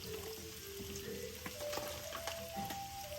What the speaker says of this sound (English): this is kind of how I saute them